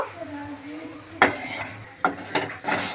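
Metal spoon scraping and clanking against a pot while rice is stirred into boiling milk for payesh, a Bengali rice kheer; a few sharp knocks and scrapes over a low simmering bed of sound, close by.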